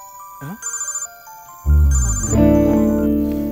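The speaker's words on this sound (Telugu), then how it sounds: "నీ ఫోన్ రింగ్ అవుతుంది చూడు." A mobile phone ringtone chimes in a repeating melodic pattern, then a loud low tone and a brighter sustained ring fill the end of the scene.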